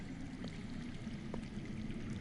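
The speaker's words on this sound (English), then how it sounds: "I hear water. From underground." Underground water in a Game of Thrones video game, a faint, continuous low trickling stream heard steadily in the background with no other sounds standing out.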